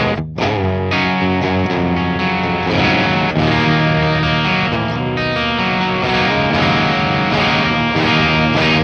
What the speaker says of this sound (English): So I have the Friedman IR-X running into the effects loop return on this Marshall Origin 50.